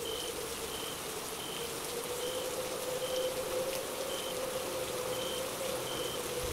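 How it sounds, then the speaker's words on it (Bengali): Rain falling steadily in an animated horror story scene, a dense even patter of raindrops with a faint tonal hum beneath, continuous and moderately loud throughout. "বৃষ্টি শুরু হয়ে গেল তো,"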